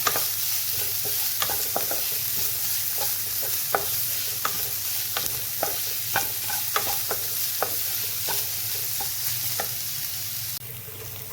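Onions sautéing in a pan for a jackfruit seed masala, a steady sizzle of frying with repeated sharp stirring scrapes of a spoon against the pan throughout, close and fairly loud, with no talking.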